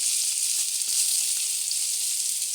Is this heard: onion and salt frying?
yes